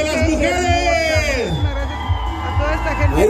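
A festival crowd at fiestas with a castle burning in Pitillal shouts and cheers loudly, a dense mass of raised voices swelling and falling for a few seconds close by.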